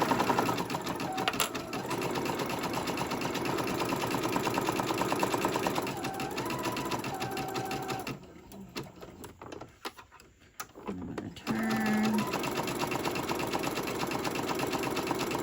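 Felt Valentine envelope being stitched on a sewing machine: steady close whirring runs in long bursts, drops away briefly in the middle, then resumes at full speed.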